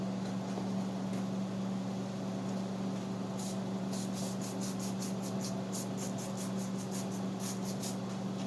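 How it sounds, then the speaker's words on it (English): Spray adhesive is applied from an aerosol can during a cheap machete build. A steady close hiss is broken by a run of short, rapid spray bursts. "I'm going to go ahead and use the spray adhesive."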